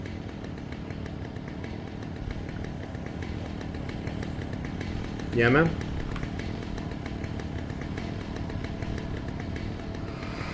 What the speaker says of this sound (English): I'll just wander towards the sound of the chainsaw.